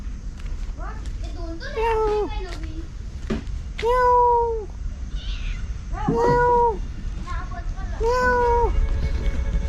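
A cat meows repeatedly, with several drawn-out calls spaced a couple of seconds apart, outdoors in a Konkan village at evening with a steady background hum. Children and other people can be heard in the background.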